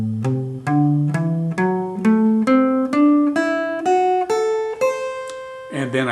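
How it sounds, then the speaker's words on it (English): Jazz guitar picks an ascending D Mixolydian pentatonic scale from a low A upward, about a dozen clean single notes in a steady even rhythm, each ringing briefly, ending with a short strummed chord, no talking. "I'm going to use the ascending D Mixolydian Pentatonic scale"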